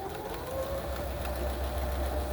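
A smooth-running sewing machine stitches a straight stitch with a drop-in bobbin, giving a continuous, even mechanical whir at moderate volume with no talking.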